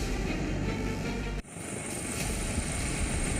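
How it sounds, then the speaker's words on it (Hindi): Helicopter engaged in flood relief operations in Nepal, a steady, loud broadband rotor and engine roar that briefly dips before settling into a continuous drone with a high whine on top. "नेपाल में अभी लगभग 10 हेलीकॉप्टर बाढ़ प्रभावित इलाकों और आसपास राहत के काम में लगे हैं"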